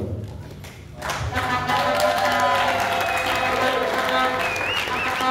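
Church congregation at a men's celebration service breaking into loud, sustained applause after a quieter start, with voices and music mixed into the dense clapping.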